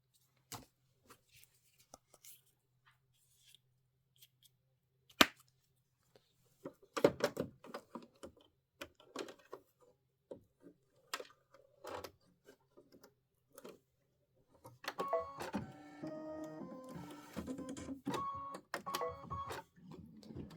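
An Aveneer embroidery machine stitches, beginning with scattered clicks and taps before settling into a rapid, steady mechanical chatter near the end, with faint background noise.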